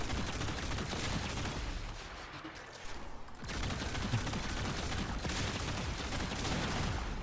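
Archgun in Warframe firing repeatedly, a dense continuous roar of rapid shots and beam noise with a brief lull midway before the barrage resumes, loud and close with no talk.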